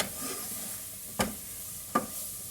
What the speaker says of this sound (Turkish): Hafif unun kokusu çıkana kadar şöyle çevireceğim